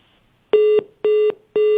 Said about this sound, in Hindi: किस तरह से फोन उन्होंने डिस्कनेक्ट कर दिया है